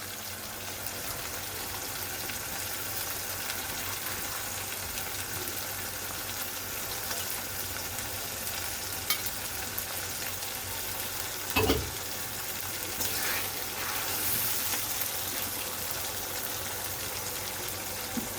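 Ginger-garlic paste and spices fry in a pan with a steady, soft sizzling hiss that carries throughout, broken by a brief clunk of a utensil partway through.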